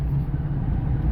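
Road traffic on an asphalted overpass ramp in Davao City, a steady low rumble of passing cars and engines close by with no break, heard alone.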